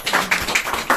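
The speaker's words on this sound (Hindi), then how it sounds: "ताली बजाए यीशु मसीह के लिए" A church congregation claps for Jesus in quick, loud, rhythmic bursts, close and crowded, with no talking over it.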